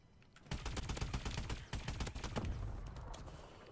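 Rapid bursts of automatic gunfire in Call of Duty: Advanced Warfare multiplayer, loud and close, firing in quick volleys with short gaps before tapering off.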